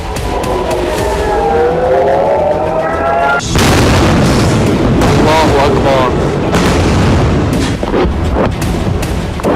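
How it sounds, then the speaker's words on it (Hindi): A barrage of heavy booms and blasts from serial explosions in northern Israel during Hezbollah strikes, one after another, loud and rumbling, with shouting voices in the midst of the explosions. "बेहिसाब बारूद बरसा, सीरियल ब्लास्ट हुए।"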